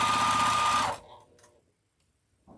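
A sewing machine stitches a seam in a loud, steady burst for about a second, then stops, leaving a few faint clicks and handling sounds before a soft noise returns at the end.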